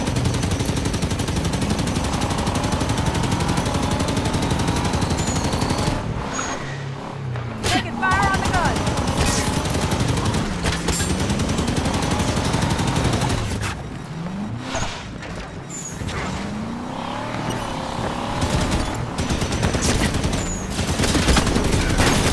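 Gunfire and explosions in a Legendary-difficulty Halo 5: Guardians campaign battle, loud and sustained bursts layered over vehicle engine rumble and dense game noise, with voices talking at points.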